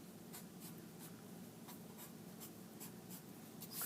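A pencil sketching a feather on paper, quiet continuous scratchy strokes with regular short flicks, close and soft, with a brief louder rustle of the paper at the end.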